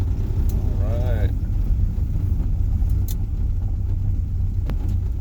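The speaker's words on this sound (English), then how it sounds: "So you want to go for a ride in the Camaro?" Interior of a Camaro on a ride along at an auto museum in Sacramento, with a steady low engine and road rumble throughout and a person talking briefly near the start.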